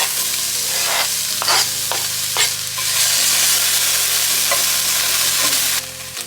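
Onion with ginger and garlic fries in hot oil in a pan, a loud, steady sizzle with occasional scraping stirs, close up and without talk, with a low electrical hum underneath.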